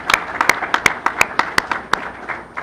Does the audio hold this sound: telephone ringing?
no